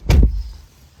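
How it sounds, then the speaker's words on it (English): The rear door of a 2022 Ford Maverick Lariat shuts with a single solid thump. It is close and loud, then fades quickly with a short muffled tail. "but if I shut the door here"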